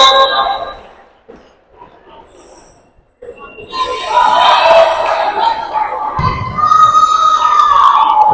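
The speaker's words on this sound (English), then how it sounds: "The crowd goes wild!" Crowd at a women's volleyball gold medal game, quiet murmurs giving way to a loud, sustained roar of cheering and yelling that swells and stays high to the end.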